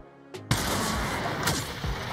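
Rocket launcher shot in the VR battle royale Population: One: a short click, then a sudden loud blast that settles into a sustained roaring wash with a later thump, heard alone with no talk.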